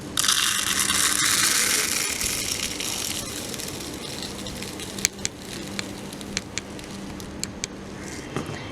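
Dry lentils poured from a hollow cone into a cylinder, starting as a rushing pattering cascade of grains that thins out into scattered sharp ticks and clicks.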